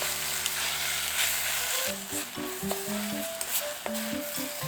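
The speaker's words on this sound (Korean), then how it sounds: "양파와 함께 볶아줍니다." Kimchi and onion stir-fried in a pan for kimchi udon, a soft sizzle broken by spatula scrapes and light taps near the end, with no talking.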